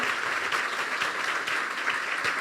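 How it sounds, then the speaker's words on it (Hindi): Loud, steady applause from a church congregation during a sermon, continuous clapping filling the whole moment without a break. "आज हम यीशु के लिए ज़ोरदार तालियां बजाएं, उसके कलाम के लिए।"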